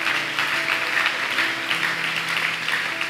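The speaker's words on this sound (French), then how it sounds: "Est-ce qu'on peut acclamer très fort?" A church congregation applauding loudly in a steady, dense wash of clapping that fills the whole stretch, with faint held tones from music beneath.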